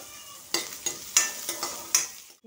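Potatoes and carrots fry in a pan with soft sizzling, punctuated by about six sharp scraping stirs spaced roughly every half second, before the sound fades out.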